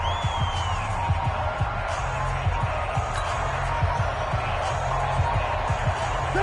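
A football stadium crowd in a video game keeps up a steady, roaring wash of cheering and murmur throughout, with commentary talk layered over it.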